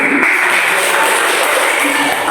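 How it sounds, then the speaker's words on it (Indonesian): A group of students claps hands together in a classroom, a loud, continuous burst of applause that fills the whole moment. "Tepuk tangan."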